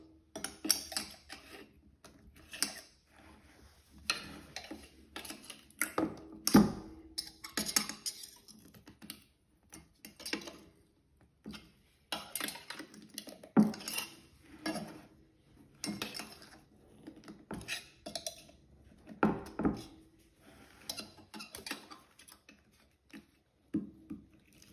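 A knife prying at an ABS pump unit as the pump is worked loose, giving a string of sharp metallic clicks, ticks and scrapes in irregular bursts, close and fairly quiet, with short pauses between efforts.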